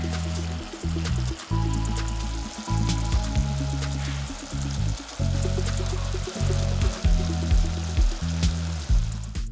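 Garlic, capsicum and mushrooms fry in a pan with a steady crackling sizzle, broken by repeated low thumps and scraping as the vegetables are stirred, close and fairly loud with no talk.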